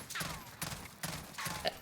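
FFAR burst rifle in the game Call of Duty: Warzone, firing several quick bursts of sharp cracks at regular intervals, loud and close with brief gaps between bursts.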